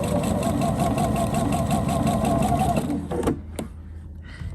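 A sewing machine stitches the curved edge of a fabric tree skirt, running in a steady, close mechanical whir for about three seconds before stopping abruptly, leaving a quiet room.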